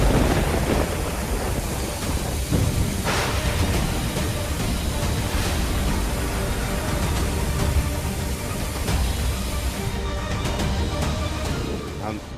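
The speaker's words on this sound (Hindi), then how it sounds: "तमिलनाडु, केरल, कोंकण जैसे क्षेत्रों में मूसलाधार बरसात हो रही है।" Heavy monsoon rain pours continuously in India with low rumbling thunder beneath, a dense steady roar close and loud throughout, easing slightly near the end; a voice talks over it.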